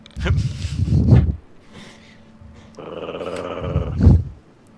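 A dog growls low and close in two rumbling bursts, separated by a brief pause and some faint background sound.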